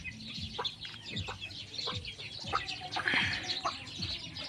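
A hen clucks repeatedly in short, close calls on a backyard poultry setup, with other chickens and light chirping in the background.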